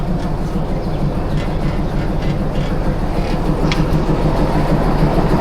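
Dolonchapa Express running at Pirgachha station in Bangladesh, a continuous close rumble of railcars with steady clickety-clack from the wheels and occasional metallic ticks, no talking.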